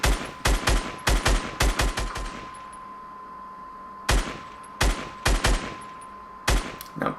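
Gunfire in Fortnite, sharp loud shots fired in quick clusters, then a pause, then more bursts of several close, punchy shots.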